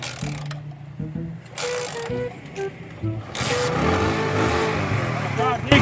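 A voice imitates a motorcycle starting, sputtering and then building into a rough, sustained engine drone. Other voices and mechanical clatter sound in the background.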